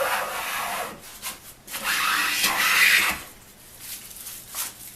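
A Union transitional hand plane, freshly sharpened, shaves curls from a wooden board in a few rasping strokes with brief pauses between them, close and moderately loud.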